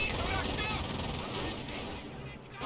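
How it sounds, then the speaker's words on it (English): Landmine detonations amid battle in the World War II strategy game Company of Heroes, a dense, continuous wash of explosive booms and gunfire rumbling throughout, loud and sustained with no clear separate blasts. "I hear multiple landmine detonations, I believe"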